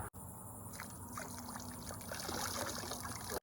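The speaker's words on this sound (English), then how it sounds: "I'm gonna use this to help filter out the water and just make it as clear as possible." Water from a forest pond trickles and pours while being filtered for drinking, a soft continuous dribble with small splashes, close by and quiet, with no talking.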